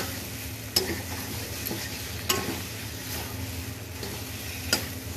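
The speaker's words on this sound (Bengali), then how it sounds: "নাড়তে নাড়তে কড়াইটা উঠে যাচ্ছে, ধরে নাড়ছি না," Vegetables being stirred in a kadai over a gas stove for a potato and pointed gourd dish, a low continuous sizzle with occasional metallic scrapes of the spatula, nearby and quiet.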